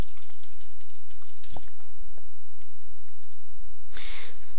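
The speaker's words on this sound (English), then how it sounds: "If I now press Ctrl+3 and start typing" Typing on a computer keyboard during text markup work, a quick run of light clicky keystrokes with a brief brighter burst near the end, close and alone with no talking.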